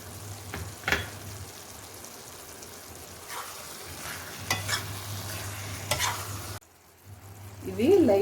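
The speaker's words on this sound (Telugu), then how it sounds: "ఇప్పుడు డ్రై ఫ్రూట్స్ మనం ఫ్రై చేసి పెట్టుకున్న డ్రై ఫ్రూట్స్ వేసుకుందాం." Fried dry fruits are added to raw papaya halwa and stirred, giving soft scraping and stirring strokes over a faint sizzle at a moderate, close level.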